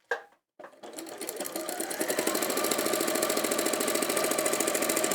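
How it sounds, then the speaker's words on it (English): Elna 550 sewing machine stitching a bag: a brief start and stop, then a steady rapid mechanical whirr with a fast regular needle rhythm, close and alone. "And carry on sewing."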